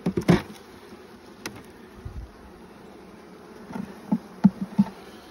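Honeybees buzz close by at an open hive frame in short, uneven bursts, with a few louder droning passes and brief knocks against a quiet background.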